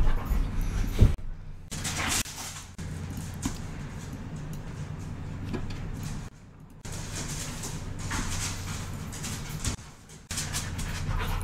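A new puppy named Lucy pants and whimpers indoors, soft rhythmic breathing broken by brief gaps and small whines, fairly close and quiet.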